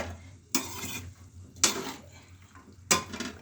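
Potatoes, peas and carrots stirred in a kadai with tomatoes and spices, three distinct scraping clatters of a spoon against the pan, spaced about a second apart over a quiet sizzling background.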